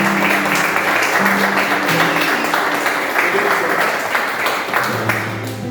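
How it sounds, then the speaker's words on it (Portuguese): A church congregation applauds during a worship service held in a garage, a steady wash of clapping hands filling the room at fairly close range with some mixed voices and a low instrumental hum underneath. "glorifica a Deus aplaudindo o nome dele. Nós aplaudimos."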